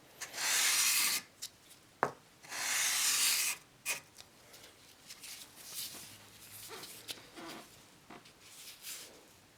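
Sandpaper rubs against an E. C. Stearns & Co. No 13 hand plane under restoration, giving two loud bursts of back-and-forth scratching near the start and then softer, intermittent rasps. No voices.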